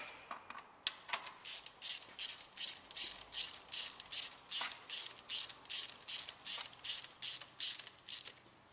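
Ratchet wrench tightening a spark plug on a 1997 Ford Escort, a steady run of about twenty sharp, evenly spaced clicks close to the mic, with no talking.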